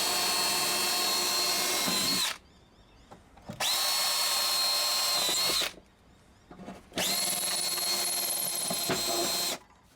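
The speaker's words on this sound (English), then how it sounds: "It's a simple matter of just drilling through." A power drill bores through a workbench to mount a key machine, three loud, close whirring bursts of about two seconds each, separated by short quiet gaps.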